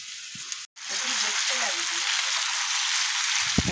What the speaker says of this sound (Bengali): এই কাঁকড়াটা কষে নেব মশলার সাথে।